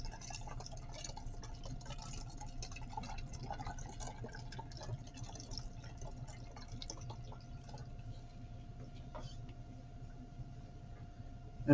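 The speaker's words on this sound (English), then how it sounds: "We are going to put this back into our big cylinder. There's going to be some splashing" Sodium hydroxide solution poured into a graduated cylinder in a lab, a steady soft trickle and light splashing with faint drips running continuously at close range.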